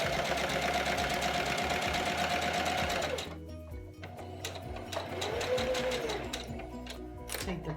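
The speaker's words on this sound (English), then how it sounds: "use pins in here and leave the pins in while you're sewing" A sewing machine stitches a fabric face mask with pins left in, running in a steady fast mechanical whir, then briefly stopping to pivot the material before stitching on again, close and continuous.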